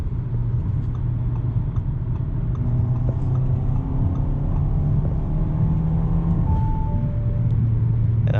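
Engine and intake roar from an Audi A4 B9 running a JB4 tune, heard from inside the cabin as a steady loud drone with a rising tone while accelerating, and no talk over it.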